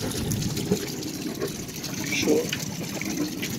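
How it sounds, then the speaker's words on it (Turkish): Water drains from an inflatable shower tank on a boat's cockpit, a gushing, gurgling flow close by while someone talks over it. "Şu anda arka duşun, havuzluktaki duşun suyunu boşaltıyorum."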